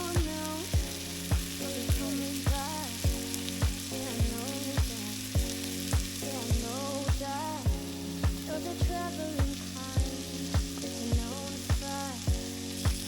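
Food sizzles steadily on a camping barbecue during a rainstorm, with a continuous loud crackle broken by regular soft knocks that keep a steady rhythm throughout.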